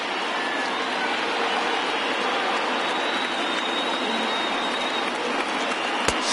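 A baseball stadium crowd of over 39,000 in MLB The Show roars continuously in a dense, even wash of cheering and clapping, with one sharp crack near the end.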